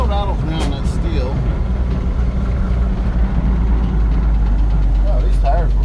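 A 1974 Ford engine runs smoothly with a steady, close low rumble that holds for the whole stretch, while voices talk over it.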